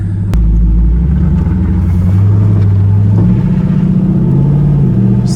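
Prius swapped to a 6.0L engine with a shift kit, accelerating hard on a road test drive, a loud, close, continuous engine roar climbing in pitch as it pulls through the gears.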